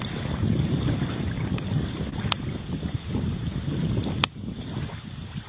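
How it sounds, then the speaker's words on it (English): Wind buffets the microphone outdoors at night, a steady low rumble with gusty bursts and a couple of sharp clicks. "It's windy almost too."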